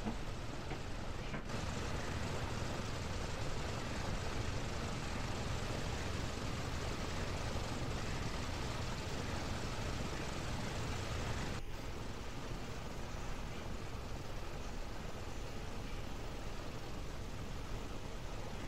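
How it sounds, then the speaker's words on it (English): Radial piston engines of a PMDG DC-6 in the X-Plane 11 flight simulator crank and run as a steady, broad droning roar, constant and fairly faint throughout with no talk. "we're starting engine number 3. which is the primary engine to start on this airplane"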